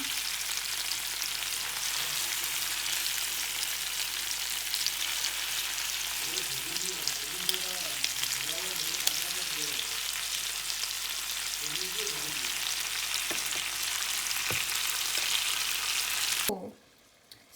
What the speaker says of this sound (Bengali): তো আমি আরেকটা সাইড ভাজার জন্য দিচ্ছি